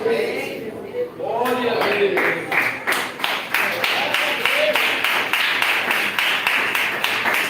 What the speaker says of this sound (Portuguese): Pode glorificar a Deus com palmas mais fortes, igreja.